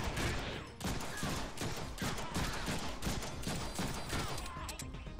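Rapid gunfire in the Deadpool video game, a dense run of sharp shots in quick bursts spread across several seconds, loud and close, with a brief dip near the start and no talk over it.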